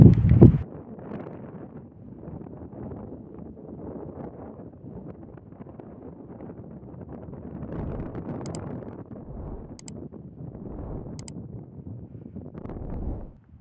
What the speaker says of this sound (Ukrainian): Тут дуже вітряно.